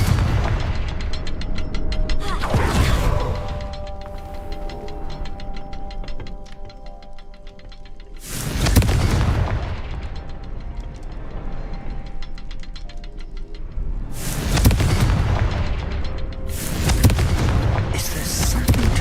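Confringo spell blasts in the video game Hogwarts Legacy go off as several loud, booming explosions at irregular intervals, each a sharp burst with a rumbling tail, over a steady ticking game background.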